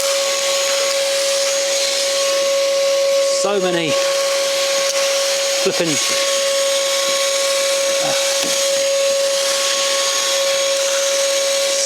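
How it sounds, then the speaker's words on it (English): Vacuum cleaner running steadily with a strong whine throughout while hoovering snail shells out of a Ford engine bay, with someone speaking briefly over it in a few short bursts. "I'm going to hoover up a few of these"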